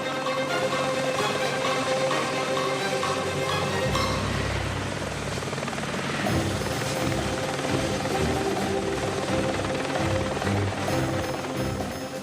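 A military helicopter lifts off from a ship's deck, its rotor thumping loudly and steadily with a roaring engine whine that stays close and constant throughout, with no voices.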